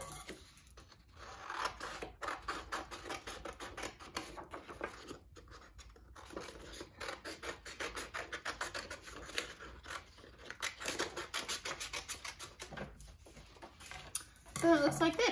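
Scissors cut a pie shape from paper at close range, making a long run of quiet rhythmic snips and rustling scrapes with short pauses.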